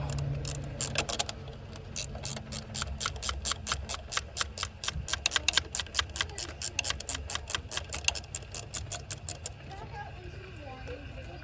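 A ratchet loosens bolts on a K24 VTC actuator in a car engine bay, giving rapid, even clicking that speeds along for about nine seconds before stopping. Faint background movement is heard, with no clear speech.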